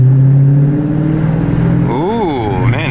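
A Dodge Challenger R/T V8 muscle car engine idles with a deep rumble, then revs hard twice as the gas is mashed, its pitch sweeping up and falling back, loud and close.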